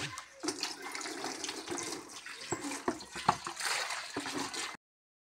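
Passion fruits are washed by hand in a basin of water, with continuous splashing and sloshing plus irregular knocks and clunks as fruit is moved around, ending abruptly.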